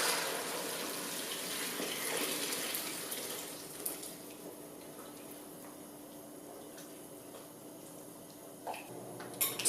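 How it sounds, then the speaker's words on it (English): Water poured from a container into a pot of miso soup, a steady splashing flow that fades after a few seconds into quieter trickles and small kitchen clinks. "And to this, I'm going to be adding in some water."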